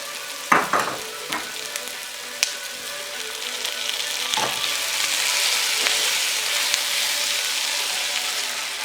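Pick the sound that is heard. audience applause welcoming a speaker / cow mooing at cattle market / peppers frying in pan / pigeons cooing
peppers frying in pan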